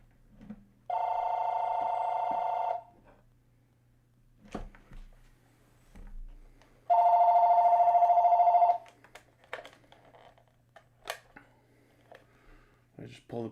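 A telephone rings in two long electronic trills several seconds apart, clear and fairly close, with a low steady hum and occasional small knocks and movement in the gaps.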